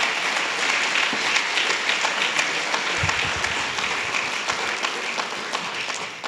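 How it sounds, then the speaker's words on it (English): An audience at a Watergate anniversary panel applauds the guests, a broad wash of many hands clapping that stays steady and full for several seconds, with a brief low thump partway through. "let's give another round of applause to Jean Boyce and Rufus Edmisten"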